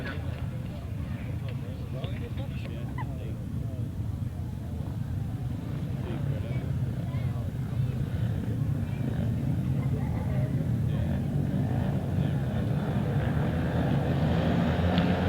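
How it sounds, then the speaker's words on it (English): Grasstrack solo motorcycles roar together at the start of an international race, a dense, steady engine drone that builds slightly toward the end, with an announcer's voice running over it. "Revving up then for race number 22, away they go."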